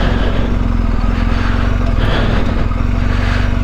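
A BMW R 1250 GSA motorcycle engine brakes in first gear down a steep rocky pass, a loud steady low rumble throughout with no voices.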